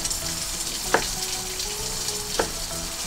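Herb chicken steam-frying over low heat in a covered pan, giving a steady sizzle with a couple of brief louder pops and clatters, close and continuous with no talking.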